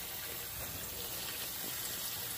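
Soapy water gushes steadily out of a plastic water jug into a sink, a continuous faint splashing pour with no talking.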